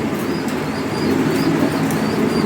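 Lahori Sirazi pigeons coo in soft, low, rolling throbs up close, a steady murmuring that continues through the short stretch with no talking.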